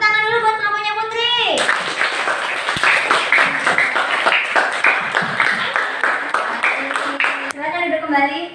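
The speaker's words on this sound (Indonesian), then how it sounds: "kasih tepuk tangan dulu" A group of children in a classroom claps steadily for several seconds, the rhythmic applause framed by voices speaking before and after.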